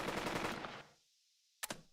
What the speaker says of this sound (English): this machine gun team towards here.